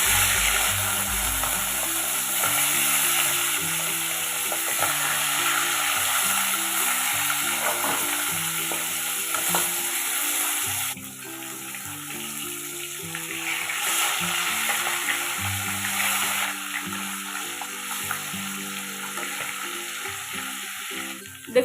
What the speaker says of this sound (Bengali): তেল গরম হয়ে গেছে, এখন মাছের মাথাগুলো ভেজে নেব।